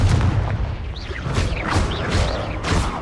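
Confringo spell blasts in Hogwarts Legacy combat, with loud, repeated booming impacts and whooshing magic effects in a dense, continuous battle mix.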